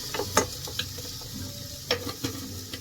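Dal roasts with salt in a hot pan, a soft continuous sizzle broken by a handful of crisp spatula scrapes and knocks against the metal, close up and without any talking.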